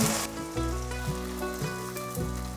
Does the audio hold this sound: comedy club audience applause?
no